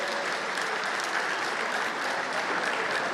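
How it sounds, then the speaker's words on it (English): Audience applauding candidates at a gubernatorial town hall meeting in Imo, a dense, even wash of clapping that holds steady from start to finish with no talk. "We can now give a wonderful round of applause to all the candidates."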